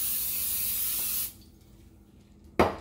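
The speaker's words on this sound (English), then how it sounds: "So, I'm going to put some spray on here." Cooking spray hisses steadily onto a hot griddle for about a second, then quiet, followed by a short sharp hiss at the end.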